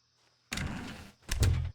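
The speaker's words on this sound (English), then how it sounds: "When Stanley and the bucket came to a set of two open doors, they entered the door on the left" A door in the video game The Stanley Parable swings open in two close, loud bursts: a half-second scraping sweep followed by a heavier thudding movement with a low boom, then silence.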